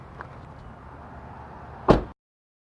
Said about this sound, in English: let me go ahead and let you shut your car door